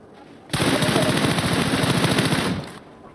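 A sustained burst of rapid automatic gunfire in PUBG Mobile, loud and close, lasting about two seconds before cutting off.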